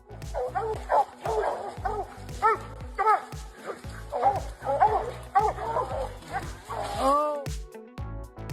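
A dog barks and yips repeatedly in short, close bursts, some whimpering mixed in, with people talking over and between the barks.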